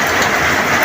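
Heavy rain pouring down in a steady, dense hiss, loud and close, with no other sounds breaking through.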